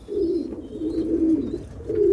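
Homing and meat pigeons in a loft coo steadily, a close, low, continuous rolling murmur from several birds with no gaps.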